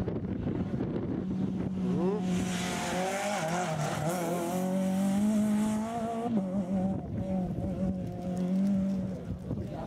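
A rally car at the Barbórka rally in Cieszyn races past, its engine loud and near, revving and shifting with rising and falling pitch for several seconds under crowd noise and voices.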